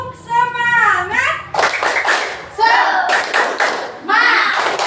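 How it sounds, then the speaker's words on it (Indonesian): Schoolchildren in an Indonesian classroom clap in a rhythmic chant pattern, with bursts of sharp claps mixed with children's and a teacher's voices, loud and close. "Tepuk semangat."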